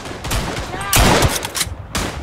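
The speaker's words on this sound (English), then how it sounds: "Ah, I shot two guys." WWI shooter Verdun gameplay: close rifle and machine-gun bursts in quick irregular volleys, loud and sharp, with brief gaps between clusters of shots.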